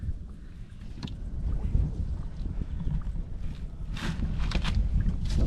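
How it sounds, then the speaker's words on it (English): Wind blowing across a bayou bank, a low rumbling buffet against the microphone that swells and gusts throughout, with brief higher rustling bursts near the end. "That wind. This wind is not good today."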